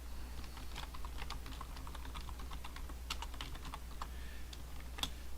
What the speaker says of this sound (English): So I can type in